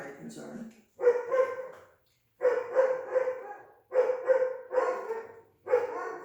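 A dog barks in repeated bursts of several yips and woofs, grouped with short pauses between, fairly close and clear.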